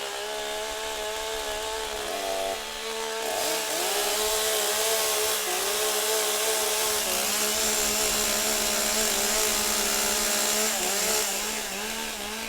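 Chainsaws roar at full throttle in a STIHL Timbersports competition in Geelong, Australia, a dense, sustained, loud engine whine with pitch rising and wavering as the saws rev through timber.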